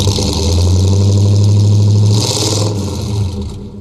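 A classic car fitted with dual exhaust and small modifications, otherwise stock, at an outdoor car show: its engine revs loudly and close, holding a deep rumble before the throttle eases and the note falls away.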